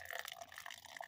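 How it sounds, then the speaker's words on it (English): Beer being poured for a St. Patrick's Day tasting, a light, steady liquid splash and fizz lasting about a second, close and fairly quiet. "Let's see what the pour looks like."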